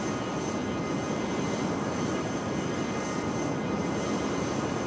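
Steady airplane engine drone in a flight simulator game, a continuous broadband roar holding level and fairly loud throughout with no pauses.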